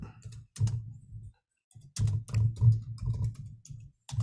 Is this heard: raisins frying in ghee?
no